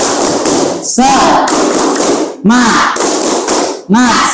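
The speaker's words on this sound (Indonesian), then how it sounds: "sebelumnya kita tepuk tangan dulu biar semangat. Tepuk semangat." An Indonesian class does a 'tepuk semangat' spirit clap, loud group handclaps in a rhythmic pattern with short pauses, mixed with shouted chant syllables between the claps.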